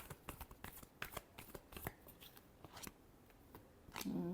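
Tarot cards being shuffled in a run of quick, crisp riffling snaps and flutters, close and fairly quiet, with a brief low hum near the end.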